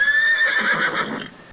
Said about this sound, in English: he asked the horse who was grazing in the pasture